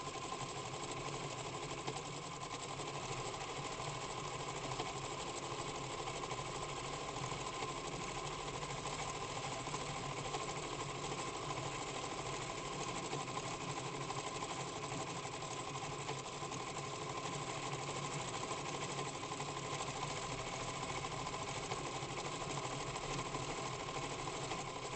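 A sewing machine free-motion stitching flowers runs in a steady, continuous mechanical whir with fast even needle clatter for the whole stretch, close and unbroken, with no talking.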